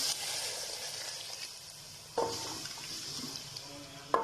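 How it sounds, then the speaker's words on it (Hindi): Water pours and hisses into a hot pan of fried potatoes and peas, a steady sizzling rush with a couple of sharper splashes partway through. "अब इसमें पानी शामिल कर दूंगी"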